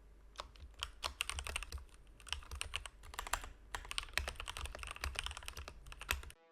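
Rapid typing on a computer keyboard at a desk: a dense, close clatter of keystrokes in bursts with brief pauses, no voices.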